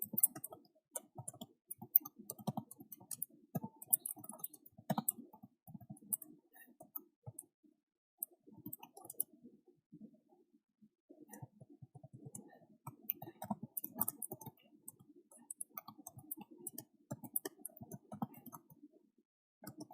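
Keys on a computer keyboard are typed in quick, irregular bursts of soft clicks with short pauses between runs, close and fairly quiet, with no talking.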